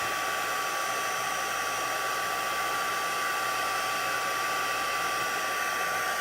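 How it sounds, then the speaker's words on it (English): A heat gun running on its low setting to heat-set vellum gives a steady, close, continuous blowing whir with a constant whine, unbroken throughout. "So just turn your heat gun on the low setting."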